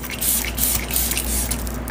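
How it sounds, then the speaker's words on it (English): A burst of setting spray misted onto a face: a close, steady hiss of several quick pumps running together for about two seconds, with no talking. "I'm gonna use this to set my face because apparently it's setting spray"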